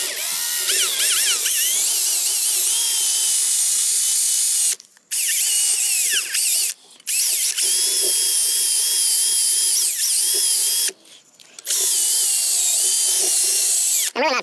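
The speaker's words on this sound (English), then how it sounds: "I'm really not applying pressure, I'm just kind of letting the drill sit on there." A power drill with a buffing pad runs over the finish of a Martin acoustic guitar, a high whirring drone in long bursts broken by short pauses where the drill stops and restarts.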